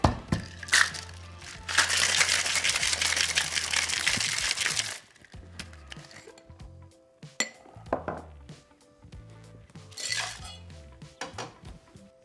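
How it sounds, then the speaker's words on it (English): Cocktail shaker packed with ice cubes and shaken hard, a dense, loud rattling burst of ice against metal for a few seconds, followed by scattered clinks and knocks of barware as it settles. "Fill that up with some ice cubes and let's give it a good old shake."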